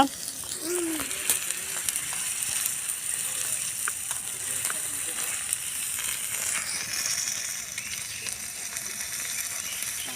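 Curry, quail eggs in a pan, frying and being stirred, with a steady close sizzle and scattered scraping clicks running the whole time, and faint background voices.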